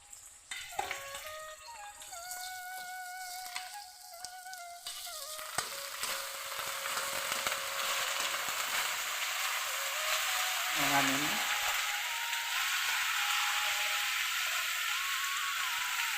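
Eggplant and potato dropped into a hot oil pan set off a loud, steady sizzle that builds and holds, with brief stirring noises and a voice speaking over it early on.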